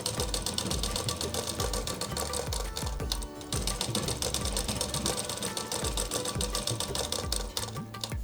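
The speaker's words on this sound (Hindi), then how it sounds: "इस तरह से हमने इसकी आस्तीन के सामने की सिलाई कर ली है, इसे फोल्ड करके।" A sewing machine runs a fast, steady stitch along the folded front edge of a kurti sleeve, near and loud, with a brief slowdown midway before it carries on at full speed.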